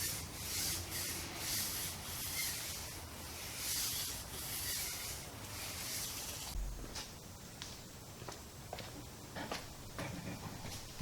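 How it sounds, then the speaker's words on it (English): A brush scrubbing car tires with a rough, rhythmic rubbing and swishing sound, close and steady, with a short pause and knock partway through before the scrubbing continues more lightly. "now I'm going to go through and scrub the rest of the tires."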